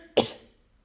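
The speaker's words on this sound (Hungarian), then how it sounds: "Hát vagy sírok, vagy köhögök." A single short adult cough, close and fairly loud, from someone speaking in a quiet room, fading quickly into silence.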